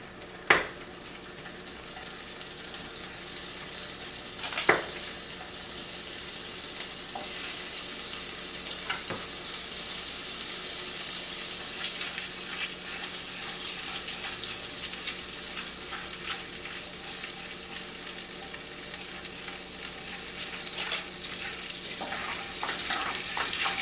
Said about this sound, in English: adding the butter is now deglazing the pan